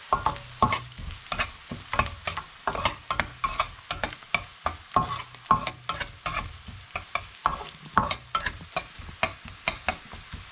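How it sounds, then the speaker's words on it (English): Tomato chutney with chili powder being stirred in a hot pan: a spoon scrapes the bottom in quick, regular strokes, roughly two per second, over a light sizzle, close up with no talking. "2 teaspoons of chili powder. I'll just give it a mix."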